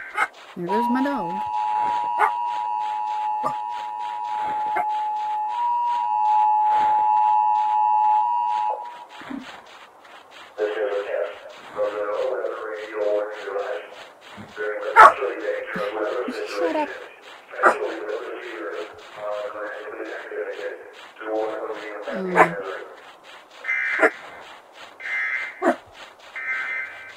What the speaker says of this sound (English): you hear my dog in the background barking